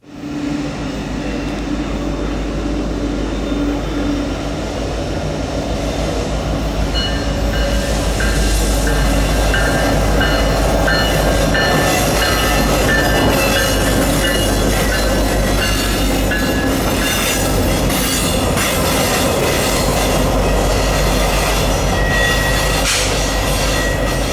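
A light set of Norfolk Southern ACU helper locomotives rolls past at Horseshoe Curve, their loud, sustained engine drone and wheel noise building early and staying strong and close throughout, without any talking.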